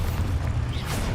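In Hogwarts Legacy, an Expulso spell bursts as a brief, heavy, close blast with a deep rumbling boom and a rushing tail.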